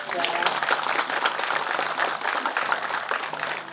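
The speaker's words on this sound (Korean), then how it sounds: "큰 박수로 맞아주십시오." Audience applause at a Gyeongbuk provincial government briefing on an electric-vehicle wireless-charging special zone: dense, steady clapping that fills the whole stretch at moderate loudness, with no gaps.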